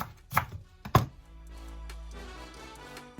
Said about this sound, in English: So I take out this and I'm gonna chop like this.